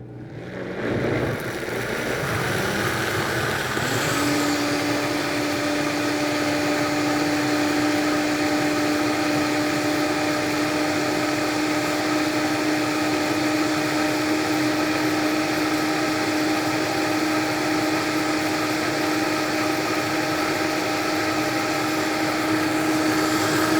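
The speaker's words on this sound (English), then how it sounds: "we're going to go ahead and blend this" A Vitamix blender blending a strawberry oat smoothie with rolled oats, starting with a rough churn and settling into a loud, steady high-speed whine with a sustained tonal hum that runs unbroken to the end.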